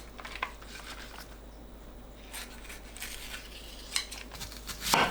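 Scissors snip through the green leaf part of a green onion in a quiet kitchen, giving a few soft, separate cuts and light rustles, with a brighter crinkle at the end.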